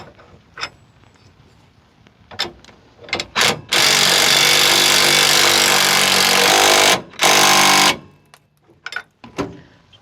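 A power tool drives the leaf spring mount bolts on a 2008 Ford Ranger: two loud, close bursts of rattling hammering, a long one and then a short one, set between quieter clicks and handling noises.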